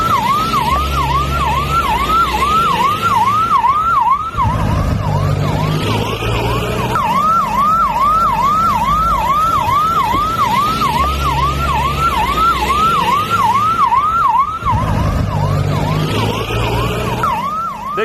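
A large police convoy arrives at a scene of unrest in Uttar Pradesh, its sirens wailing loudly and continuously in a fast, repeating up-and-down pattern for the whole stretch, with a low vehicle rumble underneath.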